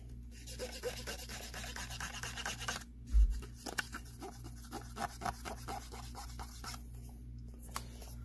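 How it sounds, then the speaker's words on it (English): Rubbing residue off with alcohol, a steady scratchy scrubbing with frequent short rasping strokes and one dull bump, close and fairly quiet, no talking. "I'm going to put some alcohol, clean up the residue that's left."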